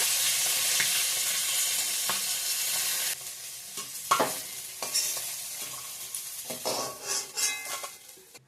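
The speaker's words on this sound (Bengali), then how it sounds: "শুকনো লঙ্কা দিয়ে দিলাম ফোড়নে, একটু 5 ফোড়ন," Dried red chillies and Bengali five-spice tempering frying in hot oil in a home kitchen: a loud, steady sizzling hiss that softens partway through, joined by scattered clinks and scrapes of stirring against the pan.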